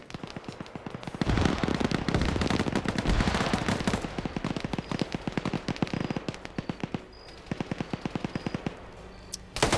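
Rapid gunfire in a video game, with dense bursts of automatic fire followed by sparser single shots and short volleys, loud and continuous throughout.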